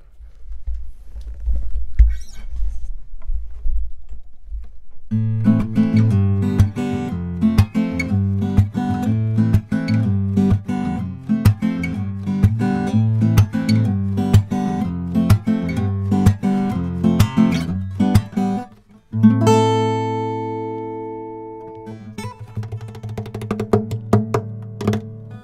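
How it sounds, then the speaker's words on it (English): Guitar captured through a Neumann U87 condenser microphone: after a soft lead-in, steady strummed chords ring out close and full, with a short break near the end followed by sparser picked notes. "But we're going to also listen to guitar now."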